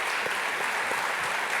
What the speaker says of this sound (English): Can we give another round of applause to Anne?